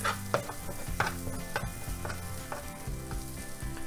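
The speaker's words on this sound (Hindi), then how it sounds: "इसे थोड़ा और भून लेते हैं।" Masala for Hyderabadi paneer masala frying in a pan with steady sizzling, broken by sharp scrapes and clacks of a spoon stirring at irregular intervals, close and fairly loud with no talking.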